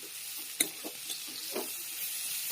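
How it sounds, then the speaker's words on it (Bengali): Vegetables for chow mein fry in a pan with a soft, steady sizzle, broken by a few sharp clicks and scrapes of a utensil stirring them; no voices. "সবজিগুলোকে একটু ভালো করে ভেজে নেব।"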